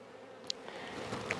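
A dense, close buzzing of many honey bees drones continuously, with a couple of sharp little clicks over the hum.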